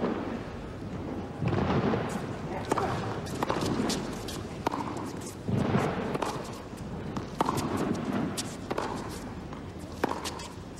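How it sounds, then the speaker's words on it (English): Fireworks going off during a professional tennis match, heard as dull rumbling booms and scattered sharp cracks over a constant crowd hum, with a commentator speaking over them. "Trying to play through the noise of the fireworks."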